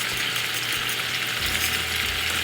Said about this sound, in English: And you can hear the little piece of pork roast